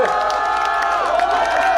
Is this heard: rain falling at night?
no